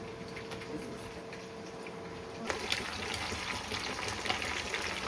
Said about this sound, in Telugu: ఈ నీళ్ళు బాయిల్ చేసిన నీళ్ళు కూడా పెట్టేస్తాం.